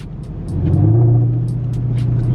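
A Camaro ZL1 1LE with its muffler deleted revs up with a loud, raw, deep rumbling roar, holding a throaty growl with sharp crackles on top.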